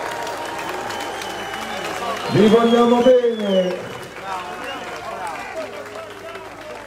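A political rally crowd in Albano Laziale applauds at a Lega event, a continuous hiss of clapping underneath someone speaking loudly into a microphone.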